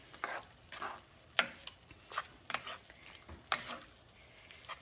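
A spoon stirring Hungarian goulash in a hot pot: soft, repeated scraping strokes with a faint sizzle beneath, close and quiet, with no talking.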